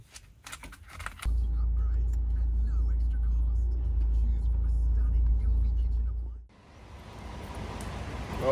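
A Suzuki car towing a boat on the road, a steady low engine and road rumble holding loud and even for several seconds before dropping away into lighter road noise.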